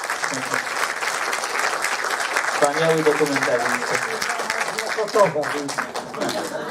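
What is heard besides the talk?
audience applause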